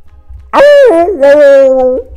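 A dog in the Minecraft video game gives two drawn-out, whining, howl-like calls, loud and close, the second longer and steadier than the first.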